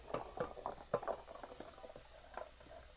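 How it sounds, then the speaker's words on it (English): Onions, carrots, celery and garlic sizzle in hot oil in a home kitchen soup pot, a close crackling patter with irregular spits and pops that fade slightly toward the end. "I'm going to saute that in my oil."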